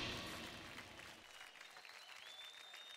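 A studio audience applauds as teams from a Zee TV show are welcomed, dense broadband clapping that is loud at first and then thins slightly while staying steady, with a faint high whistle tone near the end and no speech.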